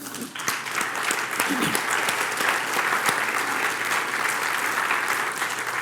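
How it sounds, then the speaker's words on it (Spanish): A church congregation applauds in a loud, continuous burst of clapping that holds at an even level throughout, with a few faint voices under it. "Den un aplauso, Señor."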